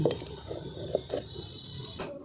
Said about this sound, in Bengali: এবার কড়াটা বসিয়ে দিচ্ছি